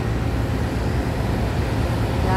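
An airport shuttle bus carries passengers out to an IndiGo plane, giving a steady low engine drone and road rumble, continuous and fairly loud with no distinct events.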